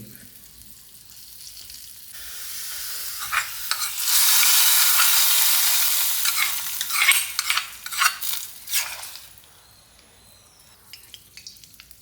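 A loud burst of sizzling as shallots hit hot coconut oil, settling into crackling and stirring scrapes before fading to quiet.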